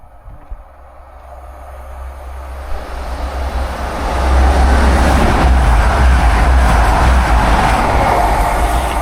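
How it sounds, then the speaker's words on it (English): A train approaches and runs through Belper station, a low rumble swelling steadily and then holding loud and close as it passes. "Sounds like a train coming."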